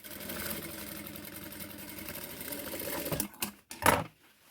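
Domestic sewing machine stitching an armhole, a steady rapid whirring chatter of the needle running for about three seconds, then a few clacking stops and starts before it falls quiet.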